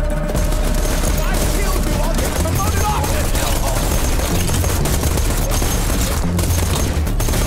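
Enemies in the Borderlands shooter keep up a dense, relentless barrage of rapid gunfire, loud and close, filling the scene with overlapping shots while a player talks over it.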